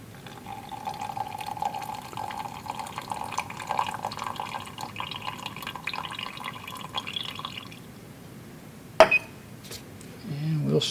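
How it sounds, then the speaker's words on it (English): A thin stream of water is poured into a container during a solution-mixture lab experiment, filling it toward a 100 mark with a steady trickle for several seconds, then a sharp clink and a brief spoken remark. "now we'll add enough water to get to 100"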